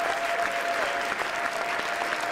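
Students in a Highland College ministry class give loud, sustained applause, a dense unbroken wash of clapping from many hands that holds steady throughout.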